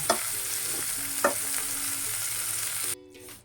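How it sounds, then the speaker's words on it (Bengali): Tomatoes fry in a pan for a Bengali cauliflower-and-tomato bharta, giving a steady loud sizzle with a few sharp stirring scrapes, then the sizzle cuts off abruptly near the end. "টমেটো এটাকেও আমি ভেজে দেবো"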